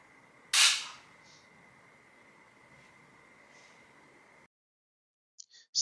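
A single sharp rifle shot in a marksmanship training demonstration, loud and close with a quick decaying tail, followed by a low steady hum and a few faint clicks near the end.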